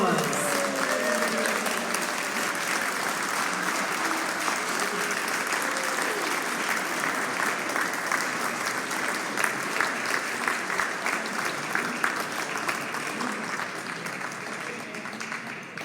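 Steady applause fills a room at an awards gala for the American Labor Museum's education director, sustained clapping from a crowd that holds evenly and tapers slightly at the end, with speech mixed in.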